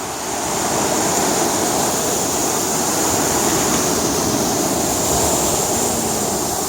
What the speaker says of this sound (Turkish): Size bol bol denizi göstereyim bol bol dalgaları gösteriyor.